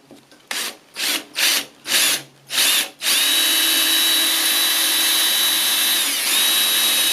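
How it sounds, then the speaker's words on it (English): A small power drill runs in five short bursts, then whines steadily for several seconds as it drills pilot holes in a car hood for louver vents, close and fairly loud. "grab a small drill and go ahead and drill on each of your marks"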